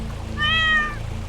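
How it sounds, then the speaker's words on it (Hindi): A cartoon cat caught in a trap lets out a single clear, drawn-out meow, close and fairly loud over a steady low background hum. "बिल्ली गलती से जाल में गिर गया।"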